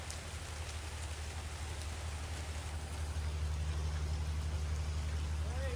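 Rain hisses steadily on board a ship crossing from Diveagar to Janjira, a dense close patter layered over a constant deep engine drone that grows slightly louder in the second half.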